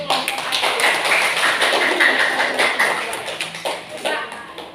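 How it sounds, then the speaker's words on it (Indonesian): Classroom applause for a presenting student group, a dense crowd of hand claps that stays loud and steady for several seconds, then thins out slightly near the end. "ya kasih aplaus dulu untuk kelompok aku"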